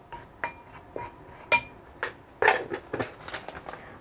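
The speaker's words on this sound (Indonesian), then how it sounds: "terus diaduk-aduk" Rice flour mixture stirred in a bowl with a spoon, a string of light clinks and scraping knocks at irregular intervals, close and fairly quiet, growing busier toward the end.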